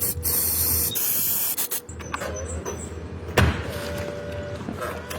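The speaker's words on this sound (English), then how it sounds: "First product, dry lubricant." Dry lubricant is sprayed onto the automated trunk lid of a Mercedes-Benz CL500, a close continuous hiss for about a second and a half, then a pause, a knock and another softer stretch of spraying over a faint hum.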